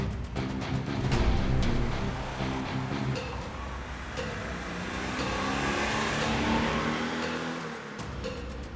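A restored 1972 Honda car drives along with its small engine humming steadily and rising slightly in revs, accompanied by road and wind noise at close range, with no talking.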